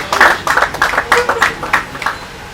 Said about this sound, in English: I think we should give him a round of applause for today's event